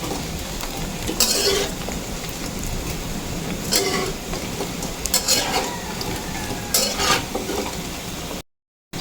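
Shrimp frying in oil in a pan, a steady sizzle broken by several scraping stirs and metallic utensil clinks against the pan, ending abruptly.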